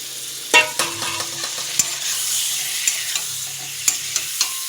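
Boiled potato goes into a frying pan and is stirred, a soft sizzle under distinct scrapes and clinks of the spatula at irregular intervals, close up with no voices.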